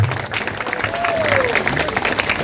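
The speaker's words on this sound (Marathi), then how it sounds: "जोरदार टाळ्या राजापूरकर" Audience at a local youth bodybuilding competition claps for the contestants, a moderate spatter of applause with crowd noise and a voice over a loudspeaker.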